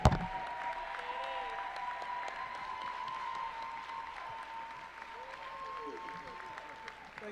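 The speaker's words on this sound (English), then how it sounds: "Give her a round of applause. We can do better than that" Basketball crowd applauding a breast cancer survivor at halftime of a women's college game, DSU versus Coppin State; steady sustained clapping fills a large gym with a continuous tone and crowd noise underneath, holding level throughout.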